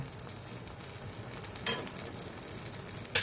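Dhoka dalna curry, seasoned with turmeric, chili and cumin powder, sizzles softly in a pan, with two sharp stirring scrapes, one midway and one at the very end; no talking.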